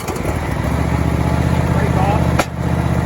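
A John Deere Z525E zero-turn riding mower runs with a steady, loud engine drone and strong low rumble, with a brief sharp click partway through while the motor keeps going.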